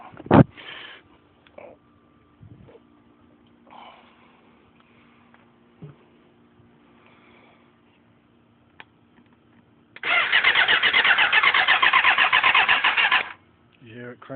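A 1998 Suzuki street bike that fails to start gets cranked over, a loud grinding starter whir lasting about three seconds near the end after scattered clicks and handling sounds, with someone speaking.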